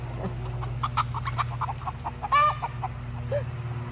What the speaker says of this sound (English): My chickens are hungry.